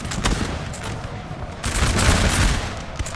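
Massed musket volleys crackle in a Napoleonic battle, a loud ragged fusillade of overlapping shots that thickens in the second half, heard alone without talk.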